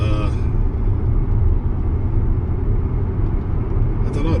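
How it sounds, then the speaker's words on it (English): Steady low tyre road noise rumbling inside a moving Tesla Model X P100D with no radio playing, a constant dull roar throughout. "you get the same kind of road noise from the tyres here when there's no radio on or anything like that"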